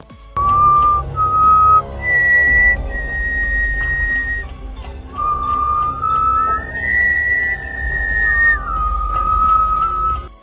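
Someone whistles a slow, wavering tune of long held notes, clear and fairly close, with a faint low hum underneath and no talking.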